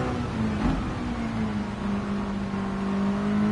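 Mazda MX-5 engine in a racing video game, played on a direct drive wheel: a continuous, sustained engine drone with gently shifting pitch, holding at an even level throughout with no voices over it.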